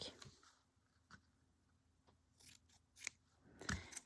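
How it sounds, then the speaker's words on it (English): Scissors snip through chiffon silk fabric while circles are cut for handmade flowers, a series of close, crisp cuts in an otherwise quiet room, with a busier cluster of snips near the end. "In order to cut my circles, I can definitively go with just taking a little piece of fabric"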